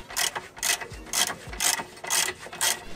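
A hand ratchet clicks in quick, regular bursts while tightening the lock nut on a car's ball joint during a steering component replacement, six or so sharp close-up ratcheting runs with brief pauses between them.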